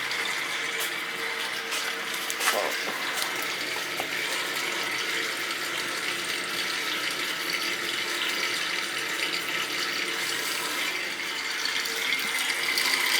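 Water runs steadily through an old boiler during purging, a continuous hiss at a constant level with a few faint mechanical clicks near the start.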